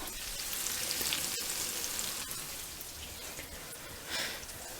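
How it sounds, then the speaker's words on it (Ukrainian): Carrots fry in a pan, giving a steady crackling sizzle that stays close and fairly loud with a brief surge near the end and no voices. "Трішечки зараз обсмажу. Так, додаємо морку в нашу."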